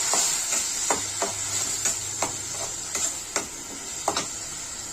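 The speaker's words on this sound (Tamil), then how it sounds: "நெய்யில் போட்டு நல்லா வதக்கணும்." Raw banana mixture with garlic sautéing in ghee, a soft steady sizzle broken by about a dozen sharp ladle scrapes and taps at an uneven rhythm, close by and without talk.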